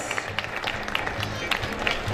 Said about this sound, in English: Dear audience, please clap louder for our young achievers.